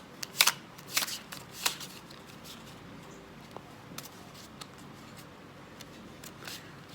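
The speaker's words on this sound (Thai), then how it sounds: "ให้ผู้ชมกรีดไพ่สับไพ่ได้เลยครับ" A deck of playing cards riffled and shuffled for a card magic trick, heard as several close, crisp riffle bursts early on, then quieter shuffling clicks and handling over a faint background.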